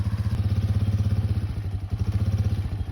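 Four-wheeler ATV engine running steadily up close, a loud low throbbing idle with a fast even pulse and slight rattle throughout, no voices.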